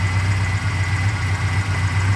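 A 1988 Ford Thunderbird turbo engine with an aftermarket turbo and cam retarded four degrees idles steadily nearby, a deep even rumble that holds without revving for the whole stretch.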